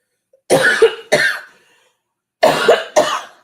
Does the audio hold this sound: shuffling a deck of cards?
no